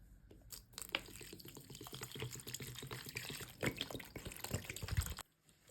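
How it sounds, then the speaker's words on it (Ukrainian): Cold water being poured into an elderberry kvass mixture, a continuous splashing, trickling pour with small clinks, close and fairly quiet, stopping abruptly near the end. "Додаємо 3 літри холодної чистої води."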